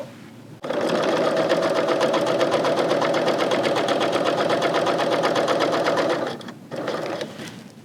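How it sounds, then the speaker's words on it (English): A Bernina L890 serger stitches through denim in a continuous loud, fast mechanical whir with rapid rhythmic needle chatter, stopping briefly near the end and then restarting for a short burst. "grabbing my piece of denim here, I'm going to place this underneath the presser foot, starting at the beginning of the needles, and I will go ahead and stitch"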